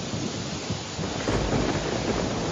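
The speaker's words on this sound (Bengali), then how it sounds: "আহা, কি বৃষ্টি!" Cartoon rain pours steadily as a dense, even hiss with a low thunder rumble swelling in the middle, with no speech.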